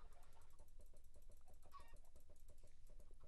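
Chickens in a Minecraft-style video game clucking in quick repeated bursts, faint and steady throughout with no talk over them.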